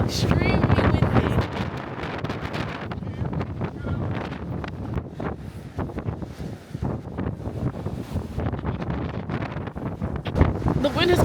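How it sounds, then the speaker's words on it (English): Strong wind gusts buffet the microphone at a reservoir in cold, rainy weather, a loud continuous roar and rumble with brief lulls, while people talk throughout. "It's not even just raining and cold, it's extremely windy."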